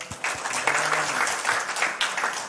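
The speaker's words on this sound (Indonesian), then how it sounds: "Semua tepuk tangan." Church congregation clapping together in a sustained round of applause, dense and fairly loud, with a few separate claps standing out near the start.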